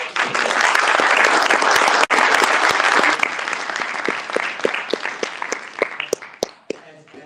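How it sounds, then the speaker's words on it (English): Hearty applause from an audience honouring a guest at a memorial reflection event, loud and dense at first, then thinning into scattered individual claps that trail away. "our guest another round of applause."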